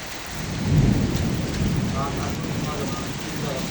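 Steady rain pours down over Dhaka city with a deep roll of thunder rumbling beneath it, continuous and fairly close.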